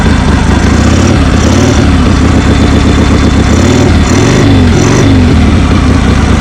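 A 1976 Harley-Davidson Sportster 1000 motorcycle engine runs close and loud, with a rough, steady idle that throbs unevenly throughout.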